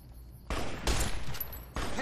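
Bursts of gunfire in Fallout: New Vegas, several loud volleys of rapid shots hitting in quick succession with short gaps between them, close and harsh over low game ambience.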